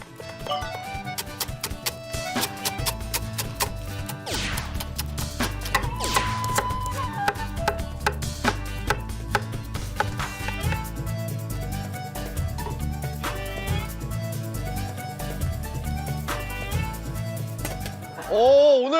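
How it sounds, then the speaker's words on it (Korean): A knife chops food on a cutting board in a Korean TV cooking show kitchen, with quick uneven taps and knocks going on for many seconds. Background music and studio noise play underneath. "칼질 기대가 된다"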